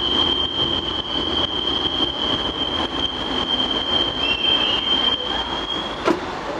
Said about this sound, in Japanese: いやー、こんな感じなんですね、フランスの列車は。